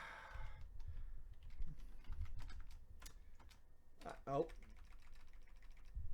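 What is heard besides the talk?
typing on a wireless computer keyboard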